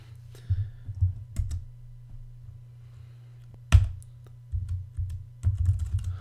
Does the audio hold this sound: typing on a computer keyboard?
yes